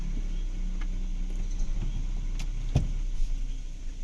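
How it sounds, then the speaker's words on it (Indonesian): Side mirror on a Nissan Livina folding in by its auto-retract motor, a steady close whirring hum with a few small clicks and a sharper knock near the end, no voices. "perlu dilakukan penutupan atau pelipatan spion mobil karena sesuatu kondisi jalan"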